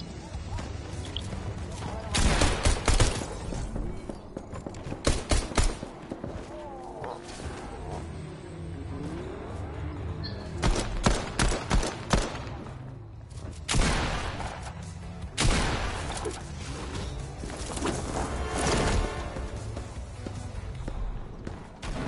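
Pistol shots ring out in a PS4 video game as several sharp bursts of gunfire, some in quick clusters, spread across ongoing game noise, with voices talking throughout.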